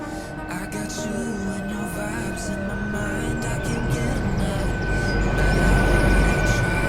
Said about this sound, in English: Our train is now arriving